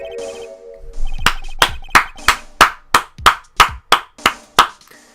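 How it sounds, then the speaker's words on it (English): A single person claps by hand about a dozen times in a steady, even rhythm. The sharp claps are close and fairly loud and play alone, with no voices. "let me just applaud that for a moment"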